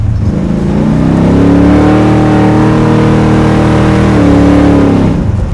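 A 700hp all-motor big block Camaro revving up close, a loud raw rumble that climbs, holds high, then drops and climbs again, with no talking over it.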